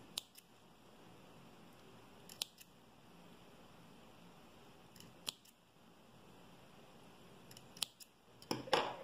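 Scissors snip through embroidery thread in several quiet, crisp cuts spaced irregularly, close up in a hushed room, ending in a quick flurry of snips.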